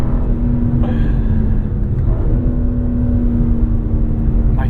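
Steady, loud engine drone of a 2023 BMW M4 CSL heard from inside the cabin on a canyon drive, a constant low rumble with a sustained tone and slight shifts in pitch, no talking.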